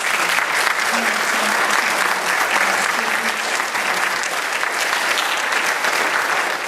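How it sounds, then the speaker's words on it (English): Sustained applause from an audience at a school safety and security information night, steady and dense for the full stretch, with a faint voice murmuring underneath. "if you could please join me in a round of applause for all of the experts"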